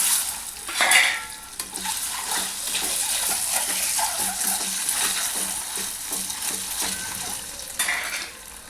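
Boiled eggs sizzle in hot oil with turmeric, chili powder and salt for egg biryani, while a utensil scrapes and stirs against the pan in repeated close strokes, with no talking.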